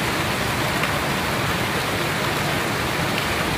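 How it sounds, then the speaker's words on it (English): Heavy rain from a Florida afternoon thunderstorm pours down in a dense, steady hiss, loud and unbroken, with no voices over it. "It's literally raining all over the place."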